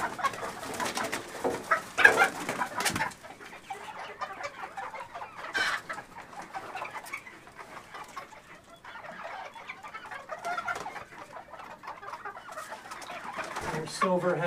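Chickens in a flock cluck and squawk at close range, irregular bursts rising and falling, with a person talking intermittently among them.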